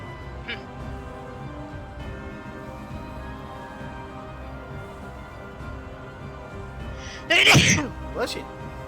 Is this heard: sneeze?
yes